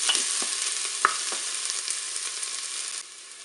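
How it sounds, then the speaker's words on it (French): Onions drop into preheated oil in a Cookeo multicooker and set off a dense, steady hiss with a few soft clicks of stirring, loud and close until the sizzle drops away sharply near the end. "l'huile est chaude, je vais pouvoir mettre mes oignons"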